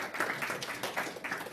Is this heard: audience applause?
yes